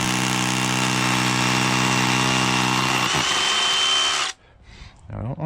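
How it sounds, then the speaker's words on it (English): A hammer drill bores into brick for about four seconds with a loud, steady, rattling whine, then abruptly stops, leaving faint scraping and handling noises. "hammer drill mode, not just hammer mode."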